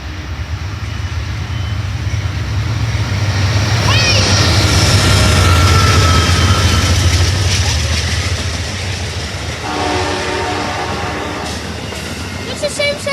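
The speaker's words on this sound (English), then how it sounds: "Lakeshore Limited passing through the Lakeshore Railroad Museum." The Amtrak Lake Shore Limited passenger train rolls past at the Lake Shore Railroad Museum, a loud, sustained rumble of wheels on rail that swells, with squeals and clatter of passing cars toward the end.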